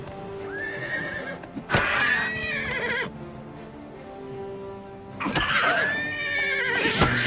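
A horse in the video game Oblivion Remastered, harassed by a goblin, gives two loud whinnies several seconds apart, each a rising then falling squeal, over a faint steady game ambience.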